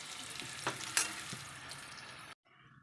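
Potato pieces, half-boiled for an aloo chingri dorma, fry in a pan with a steady broadband sizzle and a few sharper spatula scrapes, loud and close, cutting off abruptly near the end.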